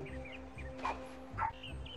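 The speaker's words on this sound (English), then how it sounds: "That's my dog." A pet dog barks indoors, a few short yips and whimpery barks spaced irregularly over a quiet hum, fairly close but not loud.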